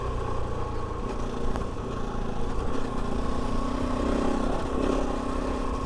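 A Kove 450 Rally motorcycle engine on a trail ride, running at a steady, gently throttled drone with rumbling low tones close to the rider, no talk.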